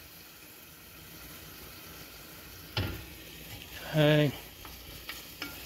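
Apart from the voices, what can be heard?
garlic frying in oil, being stirred in a pan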